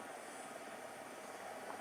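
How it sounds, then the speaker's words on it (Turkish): An aircraft flies overhead in the video game Fortnite, giving a steady faint broadband drone that holds level throughout with no voices over it. "Havana baksana uçak uçuyor."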